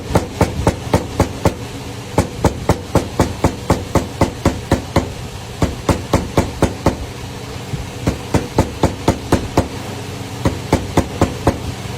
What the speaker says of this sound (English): Come back in with a hammer.